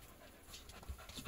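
A dog pants in the fields on a 35-degree summer afternoon, its quick, soft breathing steady throughout and close by, with no talking.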